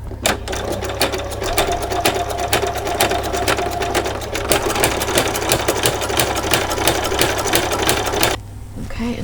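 A sewing machine runs a zigzag stitch through a doll's coat, a steady rapid clatter of needle strokes close by for about eight seconds before stopping abruptly.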